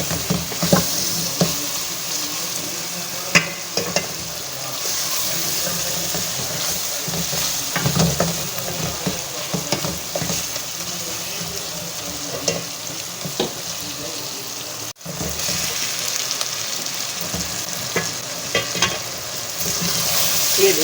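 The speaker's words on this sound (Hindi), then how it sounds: "गोश्त को मसाले में बहुत अच्छी तरह से भून लिया है" Gosht (meat) frying and being stirred in spices in a pan for bhindi gosht, with a steady loud sizzle and occasional scraping stirs, close and continuous.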